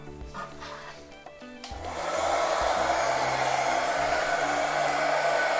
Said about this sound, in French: Là on va prendre un sèche-cheveux